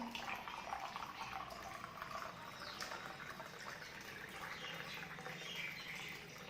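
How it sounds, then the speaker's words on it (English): Tap water runs steadily into a drinking glass in a classroom science demonstration, a continuous soft splashing and gurgling that stays close and moderately quiet throughout, with no voices. "I am going to fill this glass with water"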